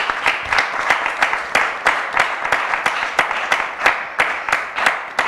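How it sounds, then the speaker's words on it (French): Rhythmic, fairly close clapping from a small audience welcoming a guest at a French-language talk event, steady beats repeating throughout with a light crowd murmur underneath. "On va l'applaudir bien fort."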